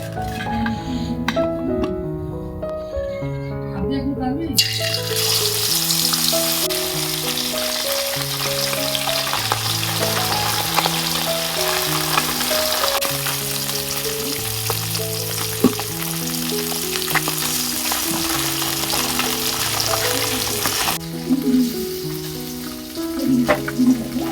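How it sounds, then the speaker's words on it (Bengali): Puti fish fry in white oil with a constant crackling sizzle, close and loud, under a steady melodic music track, with occasional stirring clinks and no talking. "মাছটা ভাজা হচ্ছে"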